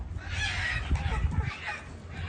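Chickens at a poultry farm cluck and squawk in a busy, close cluster, with a few sharper calls standing out from the steady flock noise.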